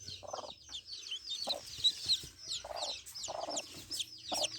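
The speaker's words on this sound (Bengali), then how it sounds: "একদিনকার ছোট ছোট সুন্দর বাচ্চা উঠছে দেশি মুরগি।" A native hen clucks in short, close bursts alongside a chorus of high, continuous peeping from day-old chicks, all fairly loud and near with no speech.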